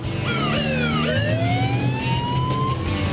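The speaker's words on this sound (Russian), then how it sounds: "Полицейские сирены нас покажут в новостях!" A police car siren from an animated series wails loud and close, its rising and falling sweeps layered over a revving car engine with no talk.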